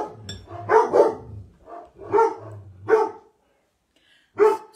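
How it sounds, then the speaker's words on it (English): Dogs barking indoors, a series of about five sharp, close barks in an uneven rhythm with a brief pause before a final bark. "Sorry about that, the dogs have woken up."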